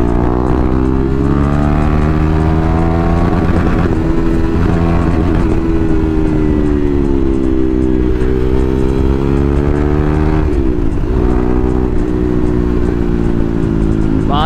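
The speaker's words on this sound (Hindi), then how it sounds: "हम चल रहे हैं अपने Duke 390 BS4 KTM" A KTM Duke 390 BS4 motorcycle is ridden hard on an open road, its single-cylinder engine droning loud and close with continuous harmonic roar and slight pitch rises and dips across the ride, no talk over it.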